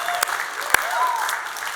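Light clapping from a church movie-night audience in Los Angeles, a soft steady patter with a couple of sharper claps standing out, while a voice speaks over it.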